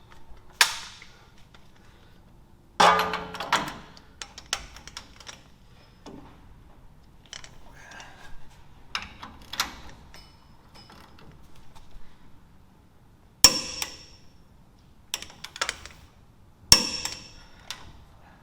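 Lower strut nuts being torqued to 124 foot-pounds on a 2020 Ram 1500 during a Rough Country 3.5-inch lift kit install: a few sharp metallic clicks and knocks scattered across mostly quiet stretches, with no talking.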